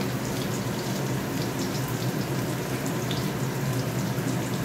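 Water poured into a cooking pot in a home kitchen, a continuous bright splashing and trickling that holds at a steady close level from start to finish, with no voices over it.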